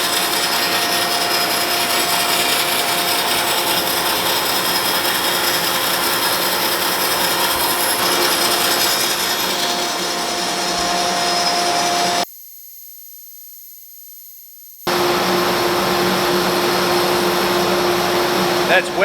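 A bandsaw resaws wenge wood in a steady, loud, continuous cutting whine that breaks off abruptly into near silence before starting up again.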